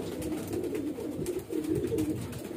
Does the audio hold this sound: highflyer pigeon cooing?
yes